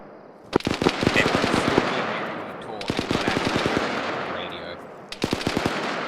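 Bursts of machine gun fire ring out during a military training exercise, several rapid rattling volleys separated by short pauses, loud and sharp with echoing tails, with faint radio-style chatter in the gaps.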